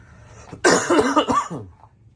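A single harsh, close cough burst, loud and raspy, lasting about a second before fading out.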